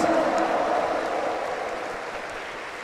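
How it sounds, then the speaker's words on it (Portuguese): A church congregation applauds during a Pentecost night Mass homily, a broad steady wash of clapping that gradually fades, with faint voices underneath. "Uma salva de palmas para Jesus."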